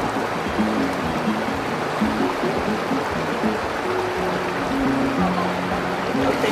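A river runs steadily along its bank at Huatatas in Ayacucho, Peru, making a continuous broadband rush of water, with low tonal hum and faint murmurs beneath it throughout.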